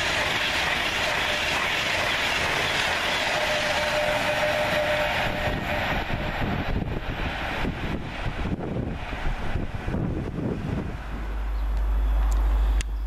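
A Class 390 electric train, unit 390-103, races through Rugeley Trent Valley station without stopping, a loud rushing roar with wind buffeting the microphone and wheel clatter before the sound drops away.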